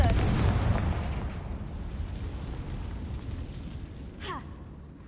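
A Confringo blasting spell goes off in a Hogwarts video game, a loud booming burst at the start that rumbles and fades into a long low roar, with a brief crackling flourish near the end.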